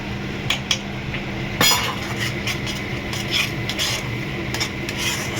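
Cumin, chilli, coriander and turmeric powders stir-fried in a pan for a rohu fish curry, with steady scraping and occasional clinks of a spatula against the pan over a continuous low sizzle, close and moderately loud.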